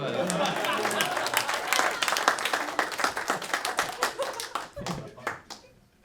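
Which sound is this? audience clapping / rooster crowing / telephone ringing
audience clapping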